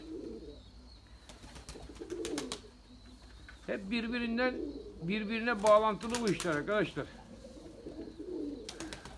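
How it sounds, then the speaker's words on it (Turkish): Male Erzurum white pigeons coo in a loft in a few rolling, burbling phrases, near and moderate in level, with someone talking in between and over them. "Bak beyaz erkek, şu liman erkek ötüyor tüye girememiş kuş"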